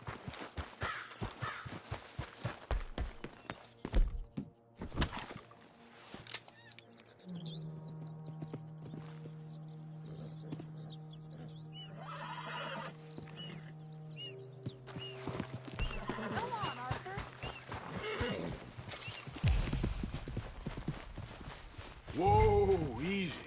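Horse hooves clip-clop and a horse whinnies in the Red Dead Redemption 2 game world, with crows cawing nearby, game music underneath and people talking over parts of it.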